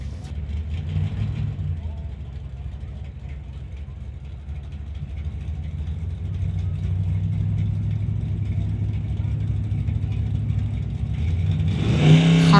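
Street-legal drag racing cars, one a fastback Mustang, run down a drag strip, a steady mid-distance engine roar that builds toward the end, with a commentator talking over it.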